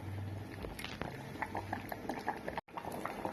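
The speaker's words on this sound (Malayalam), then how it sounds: "ഇനി ഒന്നുകൂടി ഒന്ന് തിളക്കട്ടെ" Sambar with cooked dal and a couple of curry leaves, Palakkad style, boiling in a pot: a steady close bubbling simmer with scattered popping blips, alone with no talk.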